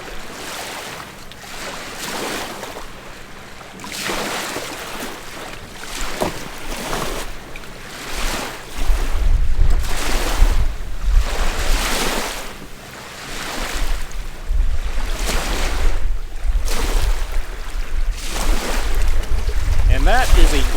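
Vigorous shaking of a cocktail shaker for a Golden Dream drink with vanilla ice cream, a fast repeated rattling rhythm of regular strokes that grows louder partway through.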